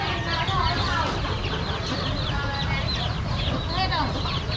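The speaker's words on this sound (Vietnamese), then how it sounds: "Thì lấy gà trống đi." Live rooster clucking at a busy Vietnamese market, scattered short clucks and squawks amid crowd murmur, with people talking nearby.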